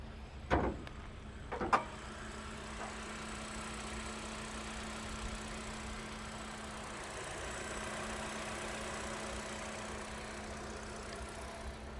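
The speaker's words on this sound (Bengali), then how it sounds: "ইঞ্জিনটা টেস্ট করার জন্য আমরা দেখি সাউন্ডটা" A 2016 Hyundai Accent automatic's engine idles with a steady low hum after a couple of brief knocks at the start, continuing evenly throughout.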